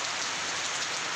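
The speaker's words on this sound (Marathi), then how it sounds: "सोमवारपासून सतत कंटिन्यू पावसाची धार चालू आहे" Heavy monsoon rain pours down without a break, a dense, steady hiss of drops striking surfaces, loud and close with no voices over it.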